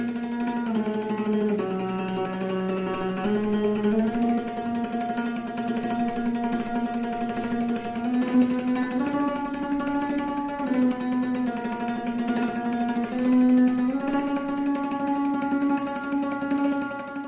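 Melody of Recuerdos de la Alhambra on classical guitar, a single line of rapid tremolo-picked notes that shift pitch steadily across about seventeen seconds, played alone at a steady, moderate level.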